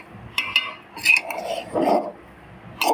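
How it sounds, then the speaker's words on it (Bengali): A spoon scrapes and clinks against a pot while plain pulao rice is stirred, a few separate scraping strokes with short metallic chinks and quiet gaps between them. "উঠে পরপর চালটাকে নেড়ে দিব যেন নিচে দাগ না লাগে।"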